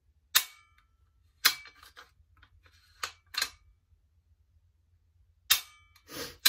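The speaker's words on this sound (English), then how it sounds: "Quick test fire." Dry-fired Tikka T3x TAC A1 bolt-action rifle with a new trigger spring: sharp metallic clicks and clacks as the bolt is cycled and the trigger released, several distinct snaps spaced across a quiet background.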